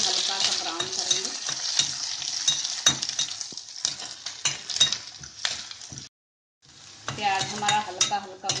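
Onion and green chilli sizzling and frying in a pan with a steady crackle, broken by stirring scrapes and occasional utensil clinks, pausing briefly near the end before the sizzle resumes.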